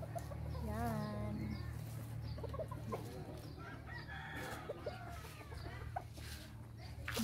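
Chickens cluck and a rooster crows nearby, with a low steady hum in the background and faint voices now and then.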